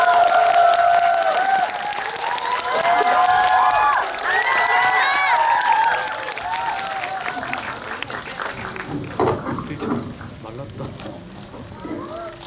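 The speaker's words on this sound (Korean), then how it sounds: "박수 부탁드립니다" An audience in a cinema auditorium claps and cheers loudly for arriving guests. The applause fades gradually as a voice talks over it.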